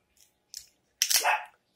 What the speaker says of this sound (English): He's a shih tzu mixed with Yorkie.